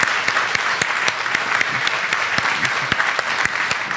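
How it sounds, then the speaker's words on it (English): A group applauds steadily at a developer summit wrap-up session, a dense continuous patter of clapping with a few sharper individual claps standing out, close and fairly loud, with no talking over it. "a big round of applause for Kim and Rachel for setting this."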